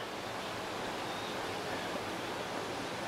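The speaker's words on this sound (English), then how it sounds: "so the waves are pretty rough" Rough ocean surf whipped up by strong wind beside an oceanfront resort in Maui gives a steady, dense roar that never lets up, with no voices over it.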